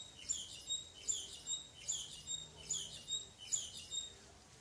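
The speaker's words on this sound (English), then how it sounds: "hear the birds and stuff going, chirping and making all their little sounds around you" Small birds chirp in the morning outdoors, bright repeated tweets in regular bursts about every second, fairly distant and soft over a quiet background.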